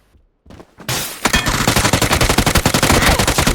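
Rapid automatic gunfire in the video game PUBG: Battlegrounds erupts after a couple of faint clicks, a loud sustained burst of close shots firing in quick succession.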